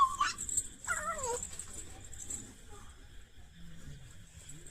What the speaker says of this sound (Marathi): कॅट आहे.